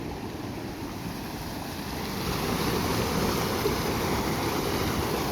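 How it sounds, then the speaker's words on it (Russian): A river rushes through a mountain gorge in Kyrgyzstan, a constant broadband roar of flowing water that swells slightly louder partway through, with no voices. "Вау, просто река."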